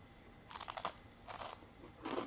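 Crunchy biting and chewing of a goat cheese holiday treat, three quick close crunch bursts with no talking.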